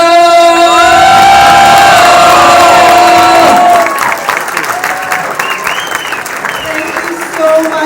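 Loud party crowd at a Showbiz India anniversary celebration welcoming a singer, with cheering, whoops and shouted voices over held tones, then breaking into dense applause and clapping.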